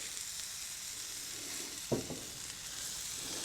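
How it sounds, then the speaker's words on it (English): A tortilla browns in a little oil on a grill, giving a steady close sizzle with one brief clunk partway through as it is set or pressed down. "browning the tortilla"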